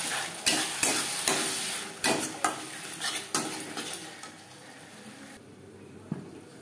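Spices for an aar fish curry are stirred in a pan with a little water, giving a soft sizzle under a series of sharp spatula scrapes and clinks against the metal, which thin out and fade toward the end.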